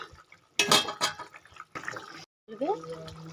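Fried lentil fritters dropped into simmering curry gravy give soft liquid splashes and bubbling, broken by a brief silent gap, with sounds of kitchen handling and a voice speaking at times.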